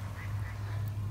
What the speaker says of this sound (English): I know there's a lot of ducks.